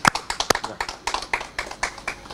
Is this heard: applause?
yes